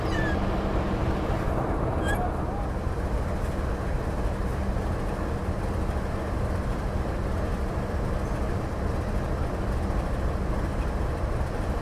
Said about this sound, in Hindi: वहाँ देखिए मालगाड़ी डिपार्चर ले रही है WDG 4G के साथ